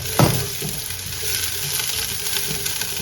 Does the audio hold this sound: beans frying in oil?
yes